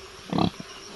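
A pig gives a single short, fairly loud grunt close by, followed by a faint softer snort.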